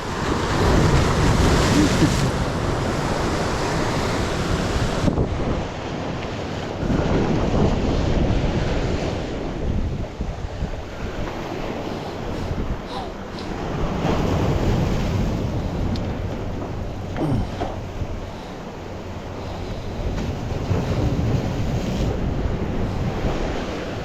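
Strong ocean waves break and surge continuously at close range, with heavy wind rushing across the microphone throughout, loud and steady with brief dips.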